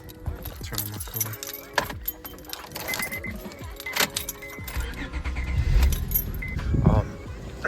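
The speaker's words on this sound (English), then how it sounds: "Turn on my car." Keys jangle and clink near a car's ignition, with scattered metallic rattles before the engine turns over and a low rumble builds toward the end.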